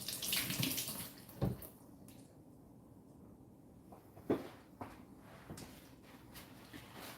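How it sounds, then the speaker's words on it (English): Hands washed under running tap water, a loud rush of water at first that drops to a quieter splashing, with a few sharp knocks and handling sounds. "Wash my hands"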